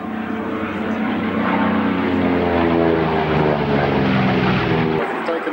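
American piston-engine fighter at an air show, a loud, steady propeller drone passing close overhead, its throbbing engine note dominating before cutting off sharply near the end.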